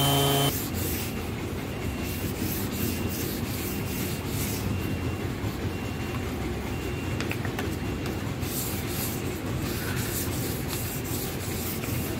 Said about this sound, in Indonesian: Sudah selesai kita amplas. Jadi yang bagian atas ini tadi menggunakan orbital sander